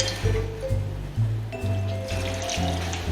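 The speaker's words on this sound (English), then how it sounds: "we're gonna pour over the rest of the gravy mix" Gravy mix poured over pork chops and onions, a soft close liquid splashing and gurgling in short bursts, fairly quiet.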